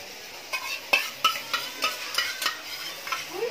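A paneer curry with cooked-down spices and fried potato and paneer is stirred in a pan, giving a run of regular scraping strokes over a soft, steady sizzle, close up with no talking.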